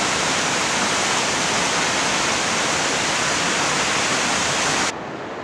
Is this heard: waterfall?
yes